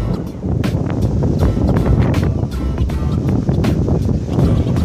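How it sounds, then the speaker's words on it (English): Strong winter wind in a town square in Pichilemu, Chile, roars steadily against the microphone in loud low gusts, with no clear voices. "it's very windy"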